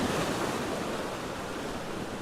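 Ocean waves breaking against coastal rocks at 1770, Queensland, a steady loud wash of surf close by with wind buffeting the microphone throughout.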